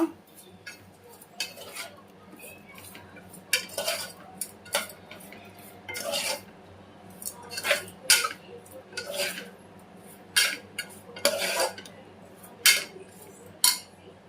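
Rice pulao ingredients mixed with curd using a ladle, with repeated scraping and clinking of metal against a pot in irregular bursts, fairly quiet and close.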